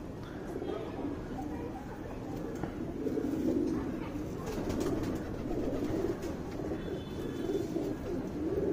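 A male Dubas pigeon gives low, steady, rolling coos that continue throughout, nearby and moderately loud, with faint background voices and other bird sounds.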